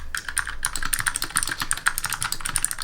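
Steady fast typing on a Razer Pro Type keyboard with tactile switches, a dense run of soft, close keystrokes with no talk.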